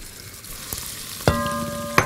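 Onion added to hot oil in a pan for rice, giving a steady close sizzle with a few sharp clanks of utensil on metal.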